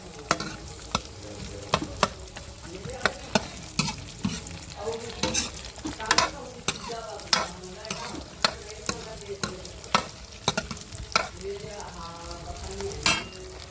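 Onions with cumin fry in a pan, a soft sizzle punctuated by frequent sharp spatula strikes and scrapes against the metal in an irregular stirring rhythm.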